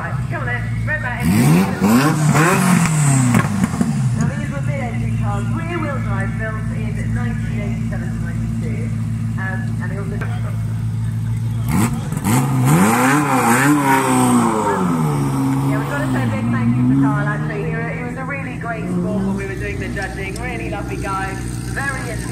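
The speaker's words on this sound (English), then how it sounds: "Ferrari F40 taxi." A Ferrari F40 used as a taxi at a classic and supercar show revs hard twice, each loud rising roar falling back to a steady throaty idle, with people talking over it.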